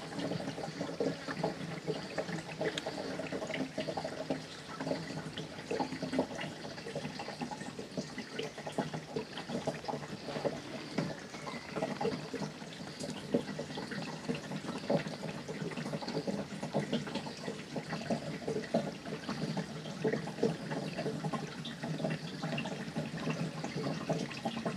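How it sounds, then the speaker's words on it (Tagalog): Water pouring from a broken rain gutter, a steady, continuous splashing and rushing stream that holds at a constant level for the whole stretch, with no voices. "Yan, ganyan ang tubig na dito mga kabayan."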